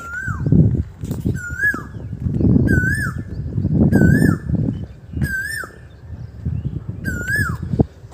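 An outdoors bird near a rural railway line repeats a clear, whistled call about every second or so, each note sharply rising and falling. A low, rumbling background of wind or murmuring sits beneath it.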